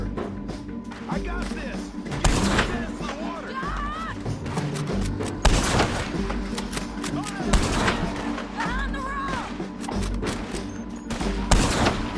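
Gunfire rings out in a Red Dead Redemption 2 scene, with repeated sharp shots and rattling bursts spread across the clip, mixed with voices and background game sound.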